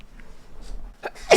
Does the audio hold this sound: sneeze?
yes